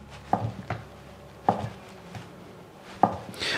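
A kitchen knife cuts tofu into lengths on a cutting board, giving three separate, soft but crisp chops about 1.3 seconds apart, close up and with no talk.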